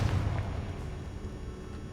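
Confringo spell explosion in Hogwarts Legacy, set by an altar and sarcophagus in a tomb: a single deep boom at the start that rumbles and fades away over two seconds, with no talking.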